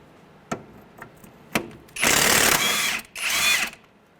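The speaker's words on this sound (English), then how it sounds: "So we're going to use an impact on the nut." Pneumatic impact wrench spinning a strut nut on a 2003-2011 Honda Element front strut, a few short taps followed by two long loud bursts of rattling hammering, close by with no talk.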